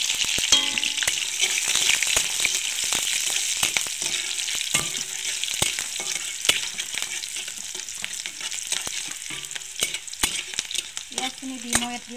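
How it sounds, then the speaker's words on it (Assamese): Mustard oil crackling in a heated wok, a loud, continuous close sizzle peppered with sharp pops and clicks of a utensil against the pan. "কেৰাহীটো গৰম হৈছে এতিয়া ইয়াতে মই মিঠাতেল দিছো"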